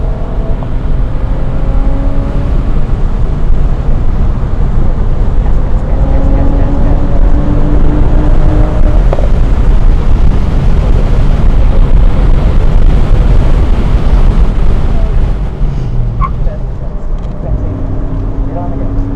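A race car engine roars loud and steady on a track as the driver gets on the gas, with the engine noise continuous and close throughout.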